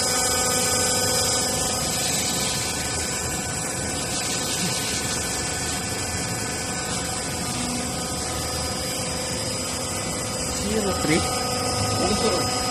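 A hydraulic notcher motor runs on single-phase power through an inverter, giving a steady electric hum with whining tonal lines and no change in level, and a voice speaks over it throughout.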